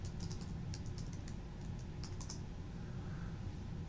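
Quick bursts of keystrokes on a computer keyboard, entering a password, tap out in a short clustered run, faint and close against a quiet room hum, with no talking.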